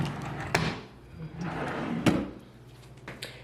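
A bathroom cabinet drawer slides open with two sharp knocks and a soft rolling rumble, close and moderately loud, with light movement in the room and no speech.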